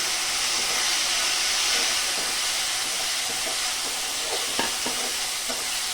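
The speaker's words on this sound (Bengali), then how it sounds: "টমেটোটাকে ভালো মতো ভেজে নরম করে নেব" Steady hiss of chopped tomatoes frying in hot oil, with occasional soft stirring scrapes and pops near the end.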